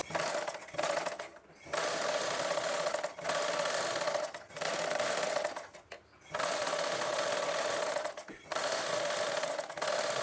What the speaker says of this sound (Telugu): ఇప్పుడు దానిపై నుంచి వెళ్ళి ఒక కుట్ట అయితే వేసుకుందాం